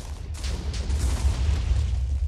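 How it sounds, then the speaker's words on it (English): TNT blasts set off in Minecraft running a realistic physics mod, heard as a steady, loud low rumble of explosion with layered bursts and crumbling debris, continuous for a couple of seconds. "In fact, let's just do a bit more TNT."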